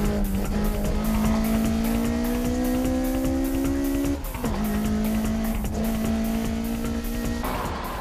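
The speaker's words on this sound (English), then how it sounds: "Downhill hairpin, Orito takes it tight using the parking brake" A race car's tires squeal steadily through a downhill hairpin taken tight with the parking brake, the engine roaring loudly beneath a sustained rising screech that breaks briefly and then resumes.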